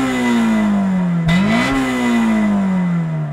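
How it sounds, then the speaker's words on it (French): A naturally aspirated car engine that revs to 8000 rpm hums loud and close, its pitch sliding down, jumping up with a quick blip of revs, then easing down again, with no voices. "c'est un moteur atmosphérique et il monte à 8000 tours minute."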